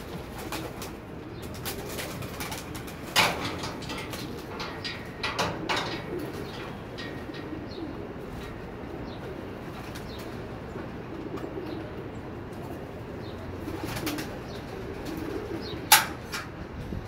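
Pigeons, including silver-ringed birds, cooing in a loft setting, with soft repeated coos, occasional wing flaps and sharp clicks over steady background hum.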